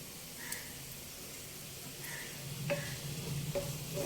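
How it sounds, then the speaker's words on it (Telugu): Ginger and garlic fry in oil in a pan for a bitter gourd fry, with a faint, even sizzle and a few soft spoon taps and scrapes toward the end. "ఈ అల్లం వెల్లుల్లి కూడా వేగిపోయిందండి"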